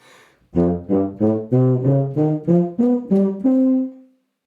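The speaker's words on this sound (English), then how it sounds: "The first is the very first lick you hear in the tuba." A tuba plays a slowed-down opening riff from a tuba concerto, about nine detached notes, ending on a held tone, alone and close.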